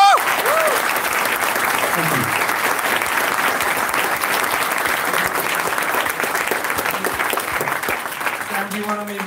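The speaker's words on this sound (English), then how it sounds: "So I think you deserve a huge round of applause." A JuliaCon 2018 conference audience bursts into a big round of applause, thick continuous clapping that holds strong for several seconds and fades slightly near the end.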